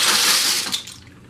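Water churning hard in a pot on the stove as macaroni noodles go in for homemade mac and cheese, a loud, steady hiss and rush that tapers off near the end, with no voices.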